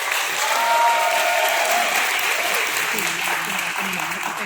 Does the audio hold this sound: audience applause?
yes